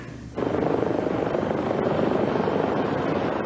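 A Life Flight medical helicopter during a rescue, its rotor thumping in a loud, steady rhythmic drone that starts abruptly and continues close and unbroken.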